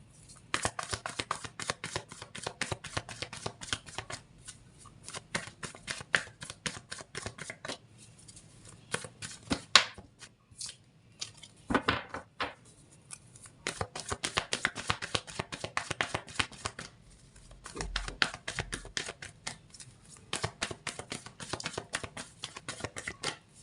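Tarot cards are shuffled by hand in a long, steady run of crisp riffling and slapping card sounds, close and fairly loud, with brief pauses and bursts of faster shuffling.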